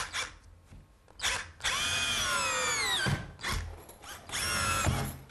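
A power drill drives drywall screws through a patch and the wall behind it, using a spring-loaded attachment. The whine rises in several separate bursts of varying length with short pauses between them, close and loud.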